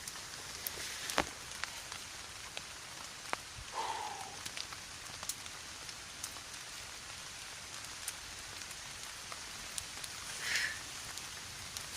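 Steady rain falls around a campfire shelter, a soft continuous patter with scattered louder drips and taps close by, heard alone without talk.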